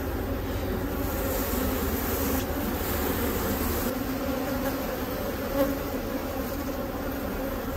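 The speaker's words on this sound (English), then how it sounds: "because these are normally very, very pleasant bees" Agitated honeybees buzzing during a beehive split, a dense continuous drone of many bees close by, steady and fairly quiet, with no voices.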